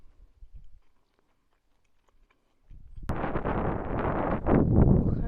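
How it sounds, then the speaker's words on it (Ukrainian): Outdoor wind gusts buffet the microphone, loud rumbling blasts that start abruptly after quiet chewing sounds and continue strongly to the end. "Вітер який, а?"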